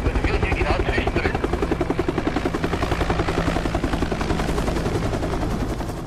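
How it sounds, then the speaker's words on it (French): A Super Puma police helicopter of the German police flies overhead, its rotor beating in a loud, rapid, steady chop that fills the whole stretch, with no talk over it. "Le Super Puma est l'hélicoptère le plus performant utilisé par la police allemande."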